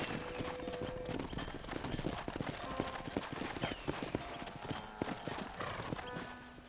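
Horse hooves clip-clop steadily on the ground in the Western video game Red Dead Redemption, a quick rhythmic patter of sharp hits with a brief whinny, heard alone at moderate volume.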